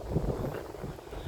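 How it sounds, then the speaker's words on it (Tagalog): Strong wind gusting across the microphone at an outdoor scenic tourist spot in South Korea, a continuous loud rumbling buffet that fills the whole moment with no pause. "Ang lakas ng hangin"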